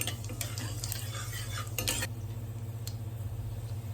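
Dry cumin seeds crackle and sizzle in hot oil in a wok, with metal spatula stirring scrapes and clinks early on, then a steadier low fry; no voices.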